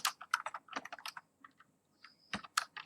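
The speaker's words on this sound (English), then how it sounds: "So now here I have to type print first my name" Quick bursts of keystrokes on a computer keyboard, close and crisp, with an irregular rhythm and a short pause midway before the typing resumes.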